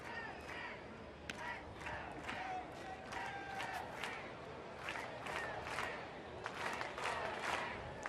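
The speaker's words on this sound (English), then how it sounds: "Crowd's going nuts right now." Loud baseball stadium crowd at a Nationals–Marlins spring training game cheering and roaring continuously, with whoops and shouts rising above a dense wall of noise.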